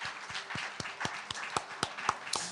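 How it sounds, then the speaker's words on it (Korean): A church congregation applauds in a short burst of scattered, uneven claps, fairly quiet and slightly distant. "우리 주님께 큰 영광과 존귀의 박수 올려드리겠습니다"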